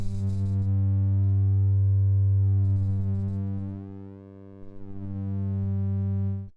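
Sine wave tone run through an ANA 2 module at max output, a loud, steady buzzy harmonic drone with a brief dip in level partway through before returning.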